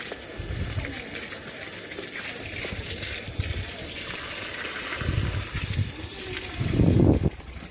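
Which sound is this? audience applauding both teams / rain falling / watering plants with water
watering plants with water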